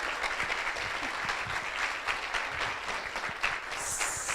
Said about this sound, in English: Yes, please clap your hands.